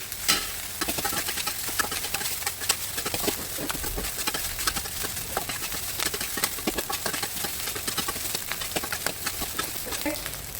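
Nasi goreng stir-fried over a big flame on a home stove, a continuous loud sizzle with rapid clattering scrapes of the spatula against the wok throughout, a faint voice now and then.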